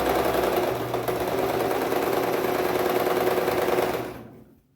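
A sewing machine stitching in reverse for a backstitch, its steady rapid mechanical whir running close and continuous for several seconds before stopping.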